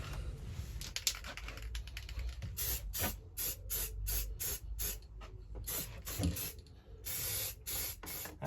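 Satin black spray paint comes out in a run of short, sharp aerosol bursts, close and fairly quiet, with brief clicks and gaps between the hissing passes.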